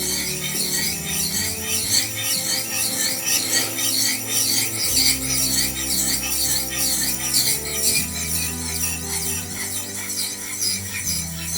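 Knife blade sharpened on a natural whetstone, a close, steady rasping scrape repeated in fast back-and-forth strokes, with a low tonal hum underneath.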